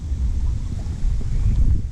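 Steady low rumbling wind, strong as a gale, buffets a microphone outdoors while fishing for crucian carp with a bamboo rod, loud and continuous with gusts swelling near the end.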